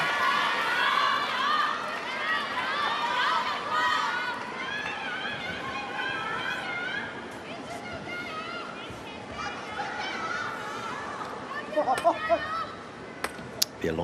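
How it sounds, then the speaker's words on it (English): A big crowd roars and cheers after a rally point, a dense, sustained wall of voices and shouts with scattered claps and whistles rising toward the end. "Be a long wait for this crowd to settle."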